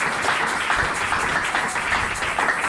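A church congregation claps and applauds steadily throughout a sermon on prayer and fasting, a dense, even wash of many hands close by.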